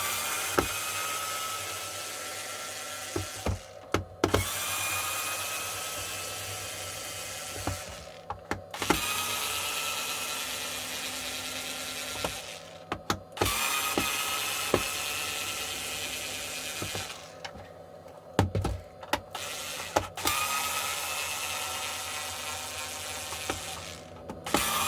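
A powered screwdriver backs out the Phillips screws holding together the case of a long e-bike battery with weak cells, giving repeated whirring bursts of several seconds each separated by short pauses, close and fairly loud, with no talking.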